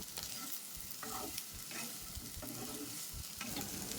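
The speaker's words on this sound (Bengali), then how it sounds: "এবার ভেজে রাখা মাংসটা দিয়ে সবজিটার সাথে ভালো করে মিশিয়ে নেব।" Fried chicken being stirred into fried vegetables in a hot pan for chicken chowmein, close crackling sizzle with repeated scraping spatula strokes, no voices.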